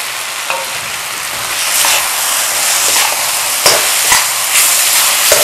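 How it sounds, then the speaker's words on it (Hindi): Okra frying in a pan while turmeric, finely chopped green chilies and other spices are stirred in, giving a steady close sizzle with scraping stirs and a few sharp knocks of a spoon against the pan. "मिक्स करें अच्छी तरह"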